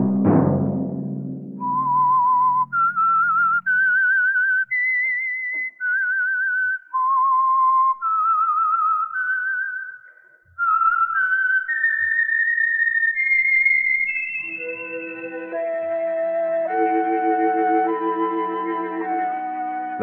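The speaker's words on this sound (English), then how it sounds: "Let that whistle be your signal for the Signal Oil program, The Whistler, each Sunday night at this same time." A lone whistled melody, the theme signal of the Signal Oil radio program The Whistler, rising in clear sustained notes with short gaps, then settling into a fuller orchestral close.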